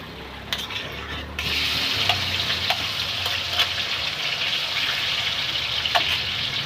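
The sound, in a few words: running water washing pickled mustard greens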